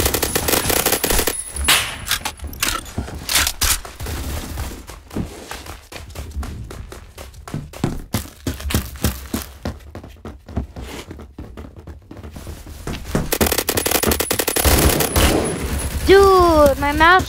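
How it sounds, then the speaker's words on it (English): Rapid automatic gunfire bursts in the first-person shooter Phantom Forces, dense loud volleys with brief pauses between strings of shots, close and sharp, with faint talking underneath. "I only shoot for a reason, to hear the satisfying noise."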